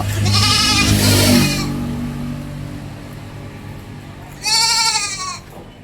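A goat at a livestock sale of dairy goats, cows and buffalo bleats loudly and close twice, once at the start and again near the end, with a faint engine hum between the calls.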